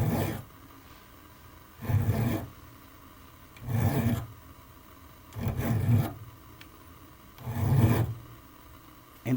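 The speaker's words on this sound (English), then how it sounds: "ran a file across both of them to give you guys an idea of just how thick that copper plating is" A file rasps across copper-plated .22 bullets clamped in a vise, five separate scraping strokes in an even rhythm, each about a second long, with short quiet gaps between them.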